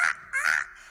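A human voice imitates crow caws in two short, harsh, nasal bursts, close and fairly loud, with a brief gap between them.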